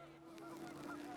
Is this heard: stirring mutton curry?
no